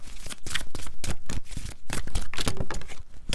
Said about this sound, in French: je prends la carte des fées devant vous, la voilà, et ensuite la carte des anges